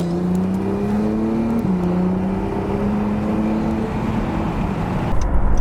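A 2017 Acura NSX hybrid supercar drives on a back road, its engine droning steadily with a slight pitch rise and dip, heard from inside the cabin along with constant road and wind noise.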